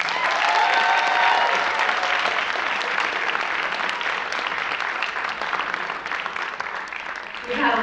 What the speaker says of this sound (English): one more round of applause for Madrigal.